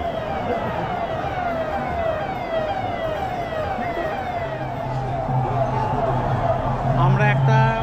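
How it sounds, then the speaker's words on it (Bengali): Wailing ambulance siren sweeping up and down continuously through a dense crowd at the Puri Rathyatra chariot festival, loud and steady, with crowd noise and a horn-like tone rising near the end. "অ্যাম্বুলেন্সের আওয়াজ তোমরা বুঝতে পারছো।"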